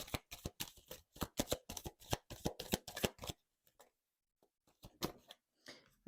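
Tarot cards are shuffled in a quick run of crisp riffling snaps, close and clear, then a few scattered softer taps.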